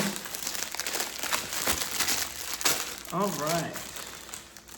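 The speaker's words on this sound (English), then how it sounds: "all right, plastic comes off" Plastic wrapping is torn and crinkled off the bag of a Yamaha tenor recorder, a close run of rustling and crackling, with a brief voice heard partway through.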